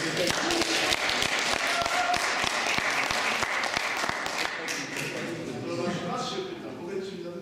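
A seated audience at a Polish church retreat talk breaks into dense, sustained applause, loud and close, many hands clapping at once before slowly thinning out toward the end.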